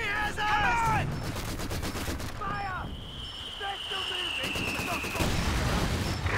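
Machine gun fire in Company of Heroes, clattering bursts mixed with booming battle explosions and whistling effects, with unit voices calling out over the din.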